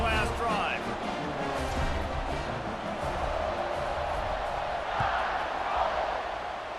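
A football stadium crowd roars in a broad, steady wash of cheering and shouting, with a commentator talking over it.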